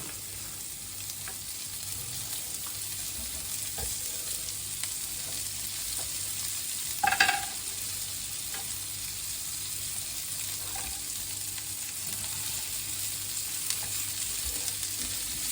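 Chopped garlic and a white onion frying in a pan with meat juices and spices, a steady close sizzle throughout with an occasional stir or clink, no talk.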